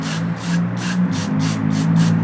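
Aerosol cleaner sprays into a car's mass air flow sensor in about seven short, evenly spaced hissing bursts. The bursts are close and loud over a steady low hum.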